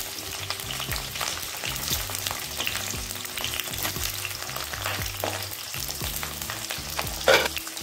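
Sliced onion and capsicum sizzle in oil with bay leaf and whole garam masala in a pan, a steady close crackle broken by stirring scrapes, with no voices.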